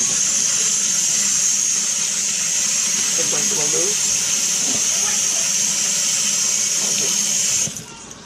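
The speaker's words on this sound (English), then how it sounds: "put cold water over it." Cold tap water pours steadily over lasagna noodles in a kitchen, a continuous hissing stream that runs almost the whole time and then cuts off near the end, with faint handling noises underneath.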